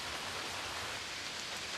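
A soft, even hiss of gentle summer rain falls steadily outdoors, faint and unbroken with no other sounds.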